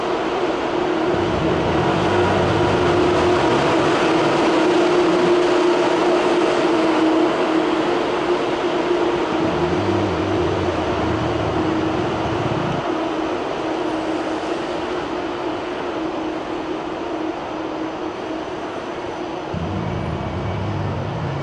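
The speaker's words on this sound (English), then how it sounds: "here is the ICE arrival from Cologne" An ICE high-speed train pulling into Berlin Hauptbahnhof from Cologne, a loud, steady broadband rumble with a sustained hum and rolling low-end thumps that ease slightly toward the end, with no talk over it.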